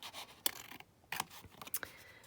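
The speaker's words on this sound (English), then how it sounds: "all I'm going to do is literally just cut some strips from here" Scissors snip through strips of paper being cut for a lace fan junk-journal embellishment, a few close, quiet crisp cuts and rustles spaced irregularly, with no voices.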